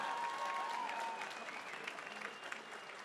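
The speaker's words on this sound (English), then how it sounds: "how about a round of applause for both these combatants going 4 hard rounds for you here tonight" Crowd applause at a boxing event after a four-round fight, a steady wash of clapping at moderate distance that tapers slightly toward the end.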